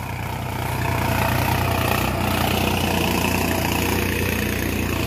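A Sonalika DI 52 HP tractor engine runs in a farm field, a steady, loud, close drone with a broad rumble and no change in pace, and no voices over it.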